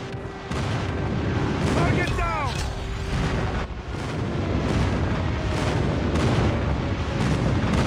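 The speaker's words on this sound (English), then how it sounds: "Friendly airstrike incoming." Airstrike explosions in a Call of Duty Mobile multiplayer match boom repeatedly in a dense, loud barrage with rumbling blasts and faint in-game voices mixed in.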